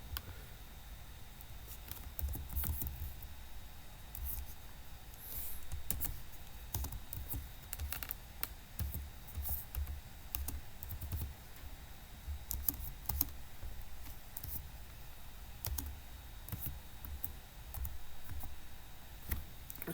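Keystrokes on a computer keyboard while entering text into a PowerPoint slide placeholder, steady rapid clicking in irregular bursts over a low background hum, with no voices.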